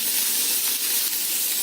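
Spiny gourd sautéing in hot oil in a pan, a steady dense sizzle and hiss, loud and close, with no voices over it.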